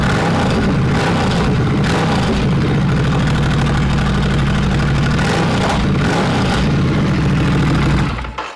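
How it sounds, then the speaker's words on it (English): A Ducati Scrambler Desert Sled motorcycle with upgraded exhaust runs a loud, close engine. It burbles and revs continuously for several seconds, then cuts off abruptly at the end. "Now it sounds like a Scrambler."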